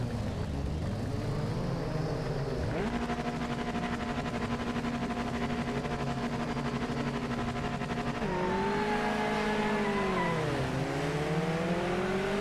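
Race car engines in Project Motor Racing at a standing start at Daytona, a held high rev while waiting, then a surge of acceleration with pitch climbing through gear changes, loud and close amid other cars.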